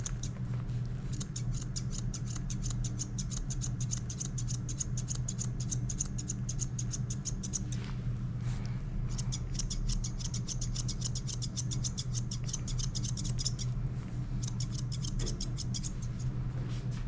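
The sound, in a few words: thinning shears cutting a dog's fur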